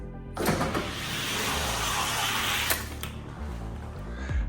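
Two 70g modified Ferrari slot cars, a Ferrari 465 and a Ferrari 430 Scuderia, race down the track with a steady, loud electric motor whine that holds throughout before easing near the end.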